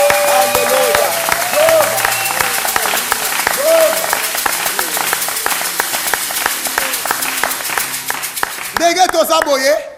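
At a church worship gathering, a congregation claps loudly in a fast, even rhythm for several seconds while voices sing and call over it, swelling into a louder burst near the end.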